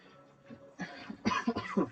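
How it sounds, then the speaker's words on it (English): A person who is sick coughs a few times in short, rough bursts, with some throat clearing, fairly quiet and close. "I apologize for the coughing."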